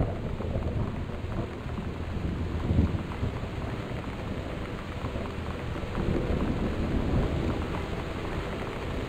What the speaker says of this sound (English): so basically a good clap of thunder and we would have no electricity